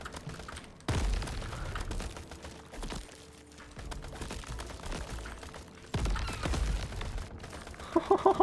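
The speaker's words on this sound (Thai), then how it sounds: "เฮ้ยเยอะๆก็ต้องปาระเบิดดิครับ" Video game gunfire and grenade blasts in the roguelike third-person shooter Crab Champions, with rapid clattering shots and two heavy booms over continuous game noise, fairly faint in the mix.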